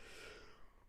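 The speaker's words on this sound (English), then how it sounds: "Big yawn, apologies." A single long human yawn, close and breathy, with an airy exhale that fades out toward the end.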